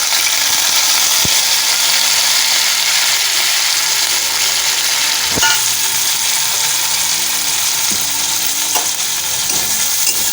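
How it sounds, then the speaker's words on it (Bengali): Garlic, green chilies and nigella seeds frying in hot mustard oil make a loud, continuous close-up sizzle, broken by a few sharp clicks of a utensil against the pan, with no talking. "রসুন কালো জিরেটা একটু ভাজা ভাজা করে নেব।"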